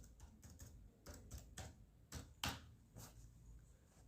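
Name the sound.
computer keyboard typing a MySQL command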